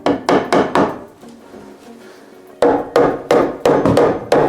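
Hammering on wood during a basement bathroom renovation, with sharp, loud, evenly spaced strikes in quick bursts. A quieter gap with faint shuffling separates the two runs of blows.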